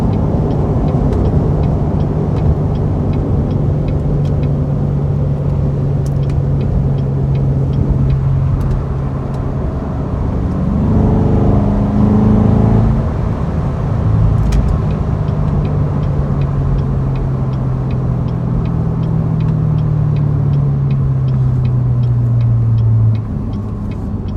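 A 2014 Chevrolet Corvette Stingray V8 engine with manual transmission hums and rises through gear changes as the car drives along, steady and close, with no voices.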